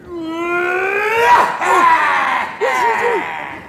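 A cartoon character lets out a loud, sustained commanding cry, a long wavering held yell that swoops and warbles near its end, close and strident with no other talk.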